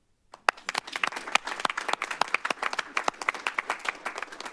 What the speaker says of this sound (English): one more round of applause, I think